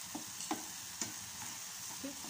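Melting sugar being stirred into carrot halwa in a pan produces a soft, steady sizzle with a few light scrapes and taps of the spoon, close and fairly quiet.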